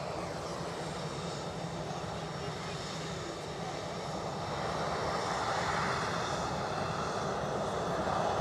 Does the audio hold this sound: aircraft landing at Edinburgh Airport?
yes